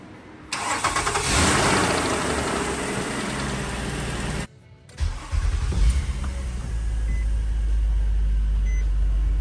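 A 2004 Nissan Murano cranks and fires after a crankshaft position sensor replacement, runs briefly, stops, then restarts and settles into a steady idle with occasional faint beeps, close and without talking.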